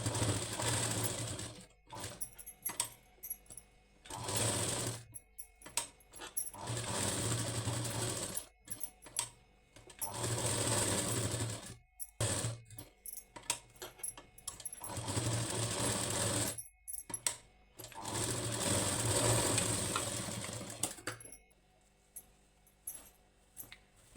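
A sewing machine stitches a blouse neckline in repeated close, loud runs of rapid needle chatter, each lasting a few seconds and separated by brief quiet gaps.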